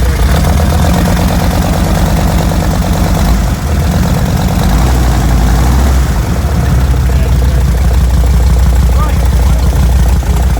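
A special five-cylinder custom motorbike engine at a custom and classic bike show runs loud and steady with a deep, uneven idle pulse. Crowd chatter and talk sit underneath.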